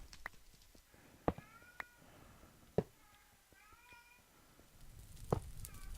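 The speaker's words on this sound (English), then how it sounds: "one of our cats is really, really nagging" A cat meows insistently, several drawn-out rising and falling cries spread across the stretch, mixed with occasional sharp knocks and clicks nearby.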